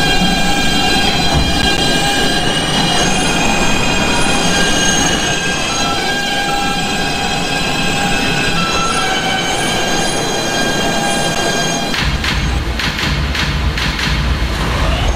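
An R160B New York City subway train runs in the Transit City 3 game with a steady loud rumble and high wheel squeals. The rail noise shifts and grows rougher near the end.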